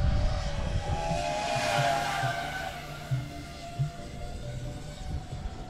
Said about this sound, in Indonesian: putar-putar di lapangan dulu karena ini drone-nya cukup besar dan bukan menggunakan baterai lipo